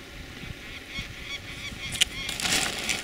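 A large bird of about 1.19 kg calls in short honking bursts while being handled and ringed outdoors, with rustling and handling noise close by.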